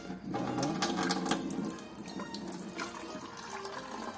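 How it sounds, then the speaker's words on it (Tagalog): Water runs from an opened faucet into an air cooler's tank, a steady splashing gush that is strongest early and then settles into a softer trickle, close and alone. "So, buksan natin itong gripo."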